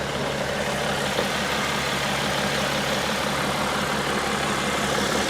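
A 2012 BMW X5 diesel engine idling under the open hood: a steady, even low rumble with a smooth mechanical hum, close and constant, with no talking.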